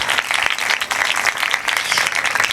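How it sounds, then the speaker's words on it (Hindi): Steady applause from a crowd at a pastor's memorial service, dense clapping filling the whole stretch at a fairly loud level with no voices over it. "ज़ोरदार तालियां।"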